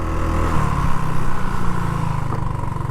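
A 2009 Genuine Buddy 125 scooter engine idles high after a variator kit install, a close, loud, steady buzzing putter with rapid regular firing pulses and no speech.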